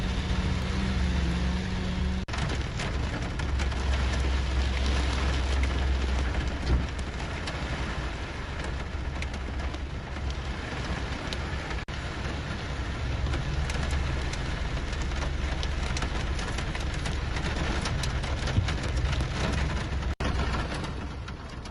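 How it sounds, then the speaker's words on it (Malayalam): Heavy rain pours down in Cherthala, Kerala, in a constant, dense hiss, steady and loud for the whole stretch, with a faint low rumble underneath. "പലയിടങ്ങളിലും കനത്ത മഴ ഇപ്പോഴും തുടരുകയാണ്"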